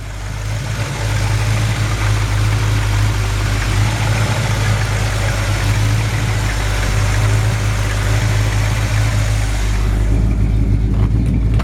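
A 1955 Ford F100 hotrod truck engine idles steadily and loudly up close, a deep continuous rumble with no break for the full stretch.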